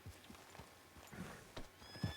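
Horse hooves clip-clopping at a steady trot in a video game, ending in a short whinny, faint and close with no talk.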